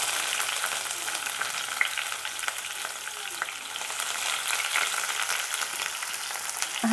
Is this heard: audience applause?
no